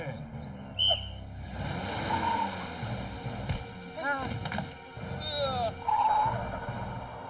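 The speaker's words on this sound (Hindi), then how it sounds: "आओ सीटी बजा के।" A whistle is blown in a Honey Bunny cartoon scene: several short, shrill tones at different pitches ring out over background music and noise, with voices present.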